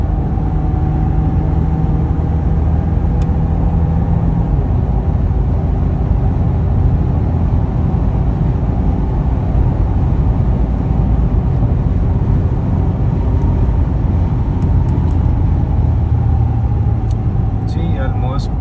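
A Toyota Prado accelerates hard toward 180 km/h, filling the cabin with a loud, steady roar of engine and road noise that never lets up.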